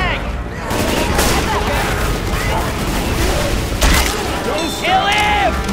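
Gunfire in Left 4 Dead 2 during a tank fight in the Haunted Forest: a dense, continuous fusillade of rapid shots layered with booms, running loud throughout while voices speak over it.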